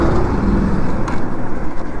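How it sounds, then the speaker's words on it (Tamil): A KTM Duke 200 motorcycle engine runs out of petrol: a loud, rough, steady drone that turns uneven and fluttery toward the end. "நம்ம வண்டி அடக்க ஆரம்பிச்சிருச்சுங்க."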